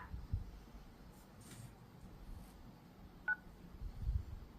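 A single short telephone keypad tone, pressing 9 on an Airtel customer care call, sounds once against a faint background hiss.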